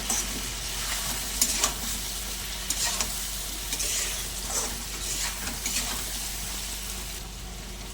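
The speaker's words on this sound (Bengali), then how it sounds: "সমস্ত রকমের গুঁড়ো মশলা সব কিছু দিয়ে একসঙ্গে একটু ভালো করে কষিয়ে নেব" Ground spices are stir-fried in a pan with a steady sizzle, while a spoon scrapes and clatters at irregular moments close by, loud and continuous with no talking.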